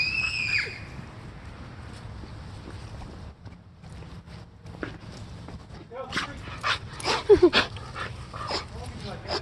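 A dog barks and whimpers in short, sharp bursts, loudest toward the end. Voices talk around it, and a faint whine sounds at the start.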